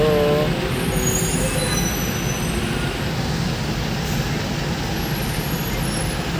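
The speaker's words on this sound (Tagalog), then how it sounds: "traffic na naman tayo" Heavy road traffic in a jam on Osmeña, with trucks idling and rumbling close by, a steady dense low drone throughout and a brief air-brake-like hiss at the start.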